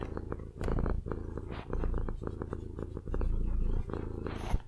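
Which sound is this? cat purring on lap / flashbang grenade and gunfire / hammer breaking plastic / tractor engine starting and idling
cat purring on lap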